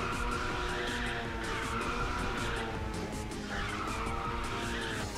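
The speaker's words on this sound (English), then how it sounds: "I'm actually surprised we got a little drift there" A car in the Ridge Racer 6 racing game drifts with sustained tire skid squeal over a loud, steady engine roar. The skid swells and fades in long waves throughout.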